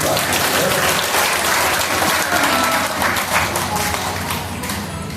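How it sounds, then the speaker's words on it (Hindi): Devotees clap their hands together at a religious gathering during a Bhagavat Katha discourse, a dense, steady wash of applause from a large crowd that fills the whole span and eases slightly toward the end. "ताली बजाओ सबके लिए।"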